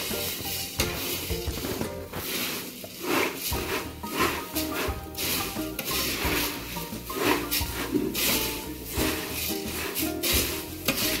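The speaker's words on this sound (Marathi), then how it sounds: "आता आपण यामध्ये चांगला हलवून घ्यायचं।" Bhadang puffed rice mixture is stirred in a pan, giving a close, continuous crisp rustling and scraping with a faint sizzle underneath.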